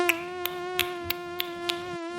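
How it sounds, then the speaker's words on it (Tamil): A cartoon mosquito drones with a steady, thin, high-pitched whine, close and constant, punctuated by a few evenly spaced faint clicks. "இப்ப என்ன கொசுவா அடிச்சிட்டு இருக்கிய"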